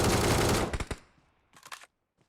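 Automatic gunfire in the mobile battle royale game BGMI: a loud, rapid burst of shots that cuts off, followed after a short pause by a second, quieter volley and a faint final pop.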